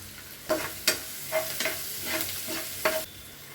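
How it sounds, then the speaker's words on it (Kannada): Onions frying with salt in a home kitchen pan, a continuous quiet sizzle broken by several sharp spatula scrapes and stirring knocks spaced irregularly, close by with no voices. "ಇವಾಗ ಈರುಳ್ಳಿನ ಹಾಕೊಂಡು ಚೆನ್ನಾಗಿ ಫ್ರೈ ಮಾಡ್ಕೊತೀನಿ"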